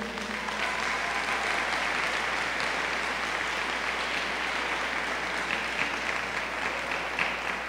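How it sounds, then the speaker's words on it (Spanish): A large audience at a diocesan catechesis congress applauds steadily, dense continuous clapping filling the hall at an even level for several seconds. "vamos a darles un aplauso."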